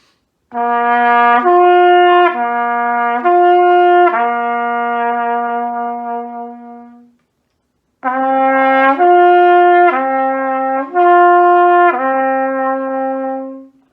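A trumpet slurs smoothly between a low C and a higher G, repeating the pattern in two phrases separated by a short breath, played solo and clear.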